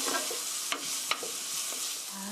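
Orange chicken stir-fries in a pan with a loud continuous sizzle, with two or three quick scraping stirs standing out, close up and without talk.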